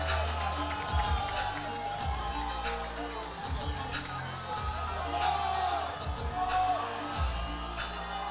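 A powerlifting championship crowd in Sheffield cheers and whoops back at a lifter, a loud steady roar of many voices with rhythmic swells and a commentator speaking over the hall noise.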